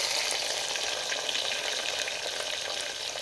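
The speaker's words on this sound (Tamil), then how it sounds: "இதில் போட்டு வெங்காயம் நல்லா வதங்கணும்." Sliced onions sautéing in a pan for tomato rice make a dense, even sizzle that stays loud and close the whole time, with light stirring texture.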